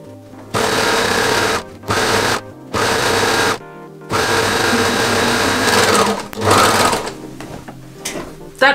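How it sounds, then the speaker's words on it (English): Serger overlock sewing machine stitching along fabric for a pinafore dress, running in several loud bursts of rapid whirring with short pauses between, then a looser stretch of handling noise at the end. "That's why I love my serger."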